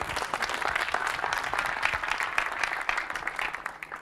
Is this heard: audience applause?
yes